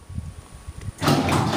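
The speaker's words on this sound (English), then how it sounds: "and garage door goes down" A residential garage door, closed by a code typed into an outside keypad, begins moving with a sudden rising rumble and a steady mechanical whir after a few faint thumps, fairly close and without speech.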